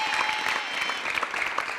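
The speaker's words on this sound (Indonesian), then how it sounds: "tepuk tangan dulu untuk Pak Jojon." A studio audience clapping for Pak Jojon on an Indonesian TV show, a short burst of steady applause heard at moderate distance, fairly quiet, with a faint voice beneath it.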